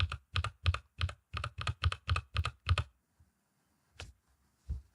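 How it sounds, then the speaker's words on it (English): Keystrokes on a computer keyboard rattle off in a quick, even run of about ten close, crisp clicks, then stop, followed by two isolated taps after a pause of near silence. "I'm just going to type in another M."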